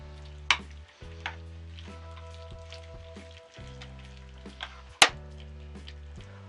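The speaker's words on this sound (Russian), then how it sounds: "И все просто ложечкой перемешиваем." A spoon stirs a mix of egg and salt in a quiet, soft wet churn with a couple of sharp clinks against the bowl, set against a low, steady tonal background.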